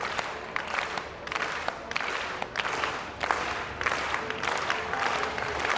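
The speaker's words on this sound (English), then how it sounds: "Support from the Italian crowd." An Italian crowd at a para-athletics long jump final claps in rhythmic, sustained waves, steady and fairly distant, with no voice on top.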